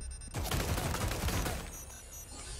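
Gunfire in the video game Resident Evil 4 Remake comes as a rapid, dense flurry of shots lasting about a second, then fades into a ringing tail; moderately loud with no talk over it.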